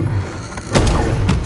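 Two dull booming blasts of the Bombarda spell in Hogwarts Legacy, close and loud, the second following shortly after the first over a continuous rumbling background.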